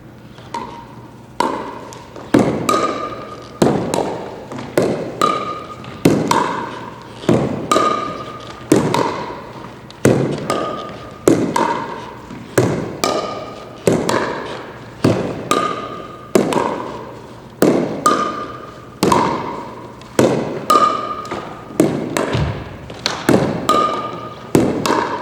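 Pickleball paddles strike a ball back and forth on an outdoor court in a Denver park. Hollow plastic pops land about once a second in a steady rally, each ringing briefly, with no voices.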